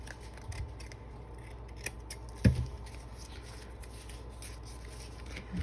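Scissors trim paper for a junk journal, close and fairly quiet, with a run of small snips and rustles and one sharper cut near the middle.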